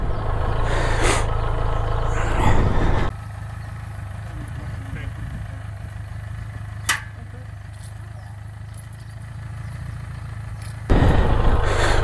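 A BMW K100RS motorcycle engine idles steadily with a low continuous rumble, louder at the start and end with a quieter stretch in between and a brief sharp click midway; no talking.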